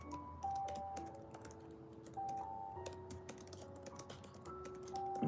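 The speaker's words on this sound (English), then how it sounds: "typing it in." Rapid, uneven clicks of typing on a keyboard somewhere in New York City, fairly faint and steady, over sustained musical tones in the background.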